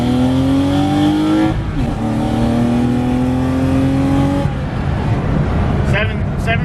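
BMW E36 318i with a stock M50 B25 engine revving hard through the gears, rising engine howls broken by brief shift pauses, loud and close with talk over it.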